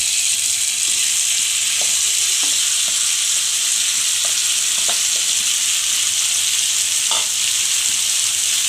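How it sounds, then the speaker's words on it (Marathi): Pressure-boiled green moong dropped into hot ghee over a low flame for moong halwa, a loud steady frying hiss with occasional spoon taps and stirring scrapes close by. "आता मी घी तापलेलं आहे गॅस स्लो केलेला आहे जे मूग आपण बॉईल केले दोन शिट्यांमध्ये ते घालून घेऊया"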